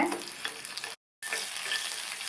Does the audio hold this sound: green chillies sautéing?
yes